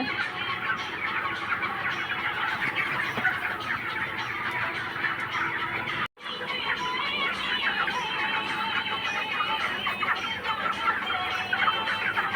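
Chickens cluck and squawk continuously at close range as a boy tries to catch them, the flurry of agitated calls holding steady apart from a brief cut midway.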